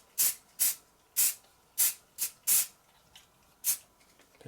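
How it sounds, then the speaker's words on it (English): Short hissing bursts from a spray can put matte varnish onto a weathered Bachmann LNER J39 model locomotive, about seven quick, close puffs in an uneven rhythm with brief gaps between. "just a very quick bit of matte varnish just to seal it in"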